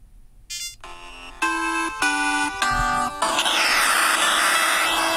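Ringtone from a Samsung Galaxy Z Fold 3 phone, triggered through a Samsung smart tag: a series of bright electronic melodic tones in short steps, loud and close, giving way to a dense noisy wash at the end.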